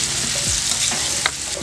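Pieces of elephant foot yam frying in hot oil with garlic, a steady bright sizzle with brief stirring scrapes against the pan, close and alone.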